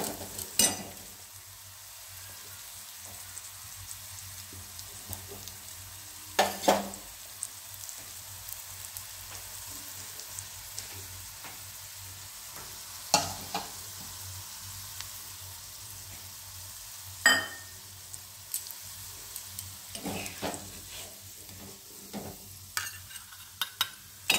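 Garlic, nigella seeds and dried and green chillies fry quietly in a pan as a soft, steady sizzle, broken by occasional sharp scrapes and pops of stirring.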